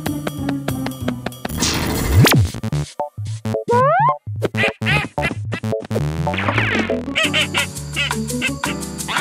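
A cartoon duck in a Pocoyo game episode quacks and honks repeatedly in loud, close bursts, mixed with playful cartoon sound effects and musical tones.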